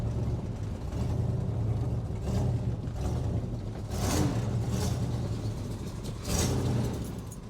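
A Chevrolet El Camino's engine rumbles steadily up close as it accelerates, its roar swelling in a few stronger surges before easing back, with no talking.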